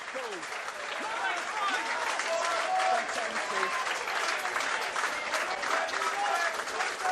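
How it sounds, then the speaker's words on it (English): Rugby crowd at a 2023 Halifax Panthers home match applauds substituted players leaving the field, a sustained rolling wave of clapping from the stands with a commentator's voice running over it throughout. "Rich applause for their first efforts."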